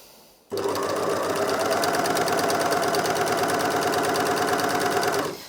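A Janome MyLock 454D overlocker starts up on its foot pedal and runs at a steady, fast mechanical whirr with rapid stitching chatter, loud and close, stopping abruptly after about five seconds.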